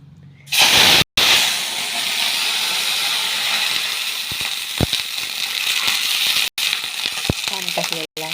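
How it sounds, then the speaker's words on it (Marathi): Water poured into hot cumin and mustard seed tempering in a pan, a sudden loud sustained hiss of steam and sizzle, close up, with a few small clicks and a voice briefly at the end. "त्याच्यामध्ये थोडंसं पाणी टाकते."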